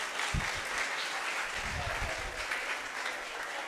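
An audience at a school soft-skills training session applauds for a teacher, brisk continuous clapping with some low thuds and faint voices underneath.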